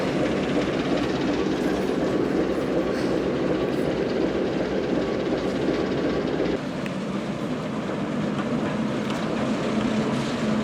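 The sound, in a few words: heritage railway train moving forwards on the Cholsey to Wallingford line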